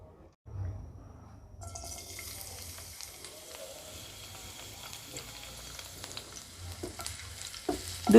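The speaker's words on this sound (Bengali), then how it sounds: "এক মিনিট ভেজে নেব" Garlic cubes fry in a quarter cup of hot oil in a pan for pepper chicken, a steady close sizzle that starts after a brief quiet, with light stirring scrapes throughout.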